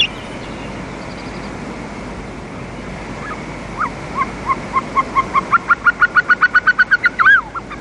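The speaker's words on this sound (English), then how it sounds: "Caucasian snowcocks. They live in the stony crags up to the vegetation line." Over a steady wash of wind or surf, a Caucasian snowcock's calls build into a rapid series of rising, repeated notes that quicken and end abruptly.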